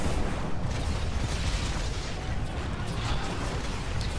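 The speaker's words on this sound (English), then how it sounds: "I just spray a few triple threats over, see if we can get his shields down" Triple Threat grenade launcher rounds burst in quick succession in Titanfall, a dense, loud barrage of explosions and rumbling blasts with no gaps, layered over constant battle noise.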